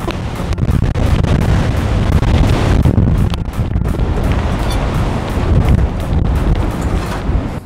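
Strong spring typhoon gusts near 35 m/s batter a new Minimal Works Glamour Shelter D Plus tent at a campsite, a loud continuous roar of wind with buffeting surges and rustling.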